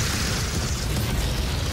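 A heavy, booming BFG weapon blast in DOOM with a rumbling low end that sustains for the whole moment, like a massive energy weapon discharge, with no talking.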